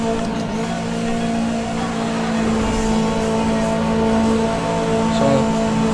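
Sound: car engine racing at full speed, video game Need for Speed Most Wanted

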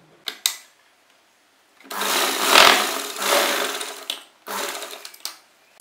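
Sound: sewing machine stitching a fabric strip

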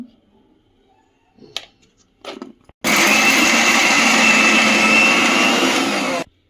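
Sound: mixer grinder grinding masala

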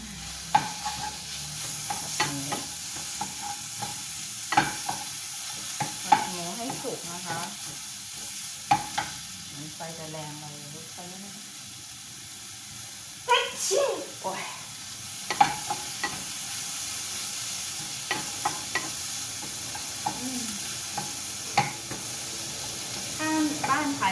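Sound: meat stir-frying in a pan

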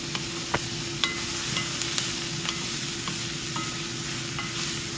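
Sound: stir-frying onions with vinegar, salt and chili flakes on high flame

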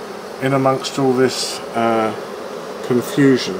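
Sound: honey bees buzzing in swarming observation hive

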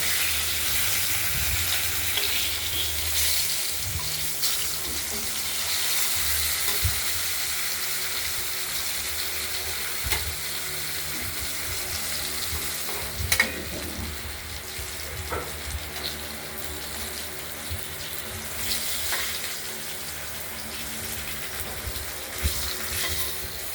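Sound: rohu fish pieces frying in oil

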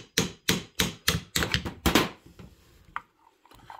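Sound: tapping a roll pin with a punch on Husqvarna 266xp chainsaw

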